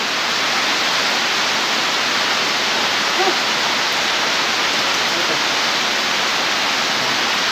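Heavy rain pouring down outdoors, a dense, steady roar of noise filling the whole clip at close range, with no clear talk standing out.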